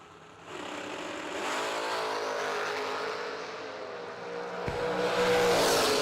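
A drag racing car, run alongside a Fox-body, launches hard down the strip on its wheelie bars, carrying the front end up. Its loud engine revs and holds a steady roar that swells further near the end.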